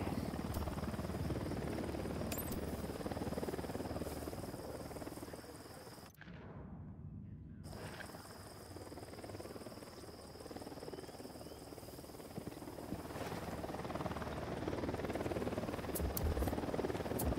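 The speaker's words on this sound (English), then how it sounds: "We got a chopper coming in." A helicopter's rotor thrums steadily in Tom Clancy's Ghost Recon Wildlands, a continuous loud whirring that drops out briefly at one point, then returns and swells as the chopper draws closer.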